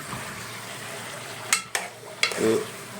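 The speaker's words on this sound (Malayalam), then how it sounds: "അപ്പോൾ ഇതിൽ ചിക്കൻ ഇട്ടു, നല്ലോണം ഇളക്കി കൊടുക്കാം." Chicken stirred in a frying pan gives a soft, continuous sizzle, broken by a few sharp scrapes and clinks of the spoon against the pan.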